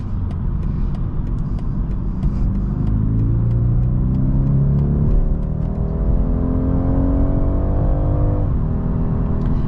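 A 2022 BMW 230i coupe accelerates on the road, its engine droning steadily from inside the cabin while the pitch climbs and drops in stepped sweeps as the gearbox upshifts, with continuous road noise underneath.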